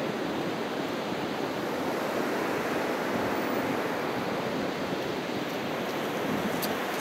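Ocean surf washes up and recedes along the beach at Eli Creek on Fraser Island, Australia, a loud, continuous rushing wash with no pause and no voices.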